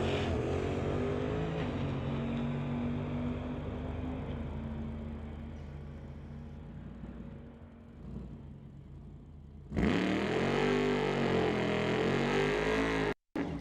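A drag racing car at a Doorwarz street event roars steadily, its engine tone fading a little before a loud, sudden launch burst near the end, with the rear tires spinning briefly as it takes off.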